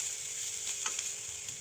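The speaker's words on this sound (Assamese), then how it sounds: "ভালদৰে লৰাই দিছোঁ।" Turmeric and spices frying in hot oil in a pan while being stirred, a steady close hiss of sizzling with a few light scrapes, brief and without talk.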